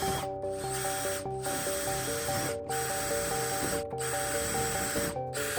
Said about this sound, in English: I could go ahead and match drill these holes through here